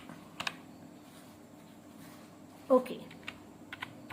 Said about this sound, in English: So we use backspace key to delete the word girl.